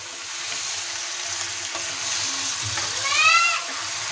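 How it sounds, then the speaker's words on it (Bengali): Marinated chicken frying among softened onions for a chicken biryani, a steady close sizzle with scraping stirs and a brief clatter near the end, without speech. "পেঁয়াজগুলো সফট হয়ে গেছে, এখন আমি এর মধ্যে দিয়ে দিচ্ছি ম্যারিনেট করা চিকেন।"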